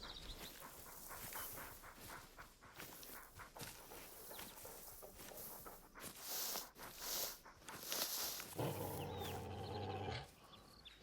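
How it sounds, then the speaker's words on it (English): A bobcat in the hunting game Hunter Call of the Wild gives low, faint growls amid rustling and footsteps, followed by a brief rougher harmonic snarl near the end, with no voices heard. "We got a bobcat around."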